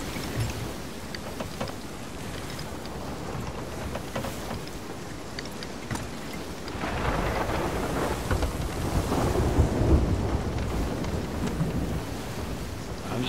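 A raging storm at sea in the Sea of Thieves pirate game, with a steady roar of wind and crashing waves around a sailing ship, swelling louder midway through.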